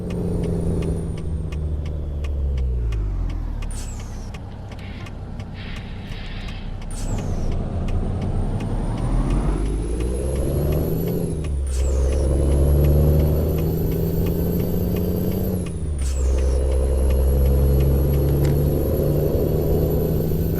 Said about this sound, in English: This truck, I really like the engine sounds